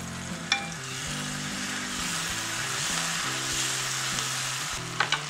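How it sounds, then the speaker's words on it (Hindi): Onions sautéing with harissa paste in a pan for pumpkin soup, a steady close sizzle and fry throughout, with a couple of brief clinks from stirring. "जैसे ही प्याज हल्का हल्का सा सौते कर ले, उसके बाद हम इसमें ऐड कर देंगे ये हरिस्सा पेस्ट"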